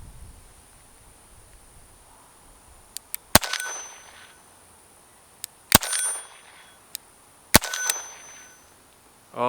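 Three sharp .32 H&R Magnum revolver shots, each followed by a ringing clang as the bullet strikes a small steel target plate at an outdoor range, spaced a couple of seconds apart with quiet between.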